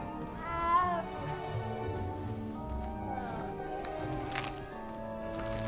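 A frightened cat in Hogwarts Legacy gives several plaintive, wavering meows in close succession, fairly quiet, with a faint softer cry later on.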